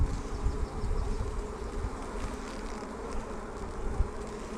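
Honey bees buzzing steadily around an open hive during a farm hive inspection, a dense, continuous drone of many insects close by, with no talk.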